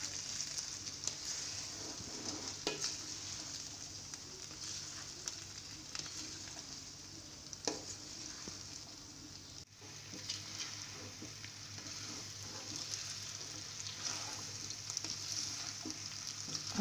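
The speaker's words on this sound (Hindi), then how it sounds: "इसको अच्छी तरह मिक्स कर लेना है।" Chicken vegetable macaroni frying in a pan, a steady close sizzle running throughout with scattered soft scraping and clicking of stirring, no voices.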